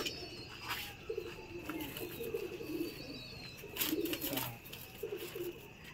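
A pigeon, a kalanka with a flat head, coos in low repeated bursts close by, with faint chirps and outdoor ambience around it.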